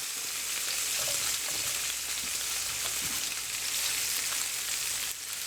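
Mushrooms go into a pan already sizzling with sausages and bacon in a full English fry-up, giving a continuous bright hiss and crackle of frying fat, steady throughout, no talking.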